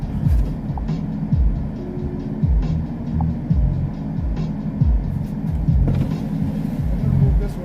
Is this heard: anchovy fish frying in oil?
no